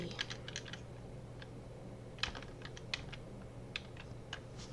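Sparse, faint keystrokes on a computer keyboard in short bursts with pauses, over a steady low hum.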